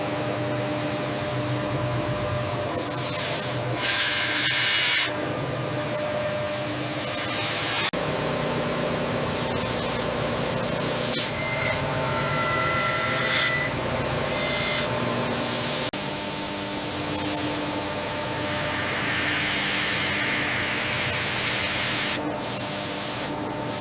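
A machine spindle turns steadily while hydraulic jaws clamp a motorcycle rim for machining in a rim factory, giving a loud, continuous whirring hiss with shifting tonal hums and no talk.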